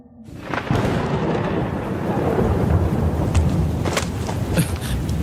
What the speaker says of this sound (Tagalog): Bugso ng ulan at dagundong ng kulog ang huli niyang narinig